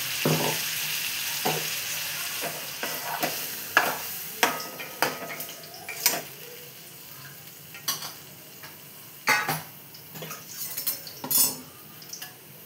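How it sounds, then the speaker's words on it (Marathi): Okra bhaji fritters, long-cut okra coated in besan and spices, frying in hot oil with a steady sizzle, broken up by repeated sharp clinks and scrapes of a metal spoon against the pan. No one speaks. "हे बघा भेंडीचे भजी बनवते."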